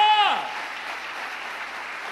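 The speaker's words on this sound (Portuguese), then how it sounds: "Você pode dar um aplauso a Deus por isso?" Church congregation applause during a sermon service: a voice speaks briefly at the start, then a steady wash of many people clapping continues, moderately loud and diffuse.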